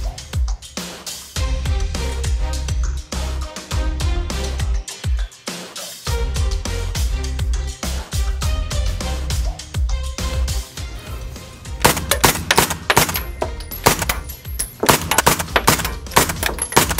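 An $8,000 Secret Service submachine gun fired outdoors in loud close bursts of rapid automatic shots, separated by short pauses and ending in a faster, denser volley.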